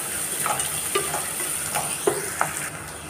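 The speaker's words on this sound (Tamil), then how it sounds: "வெங்காயம் நல்லா வதங்கட்டும்." Onions sizzle steadily in hot oil over a high flame for veg pulao, a continuous close frying hiss broken by several sharp stirring scrapes and ladle knocks, with no talk.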